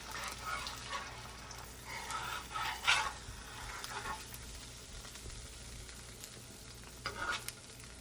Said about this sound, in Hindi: तो अभी चिकन भून रही थी मैं।